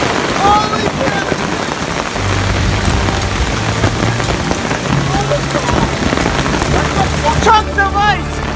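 Heavy hailstorm in the backwoods at the end of June, large golf-ball-sized hailstones pelting the ground in a dense, continuous clatter, with a low rumble and bird calls near the end.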